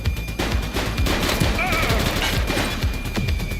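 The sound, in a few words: gunfire in the video game The Precinct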